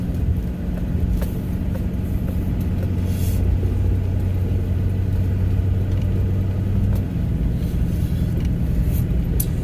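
A car rolls along a rural road past wheat fields, its engine and tires making a steady loud rumble from inside the cabin, with a low drone that holds and then shifts slightly near the end.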